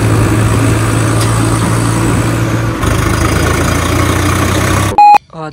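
A red 855 tractor engine idles and runs steadily at close range in a loud, continuous drone, broken briefly by a sharp tonal electronic beep near the end, with no talk.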